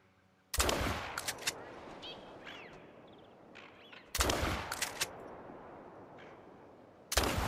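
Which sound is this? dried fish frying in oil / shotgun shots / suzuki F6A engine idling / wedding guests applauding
shotgun shots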